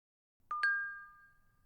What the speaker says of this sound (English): The silence is broken by a ringing chime, signaling that a new message has arrived.